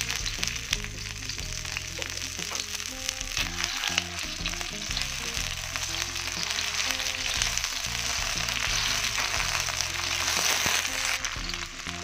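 Chopped onion sizzles in hot oil in a pan, a steady, close, continuous frying crackle that lasts throughout over light background music.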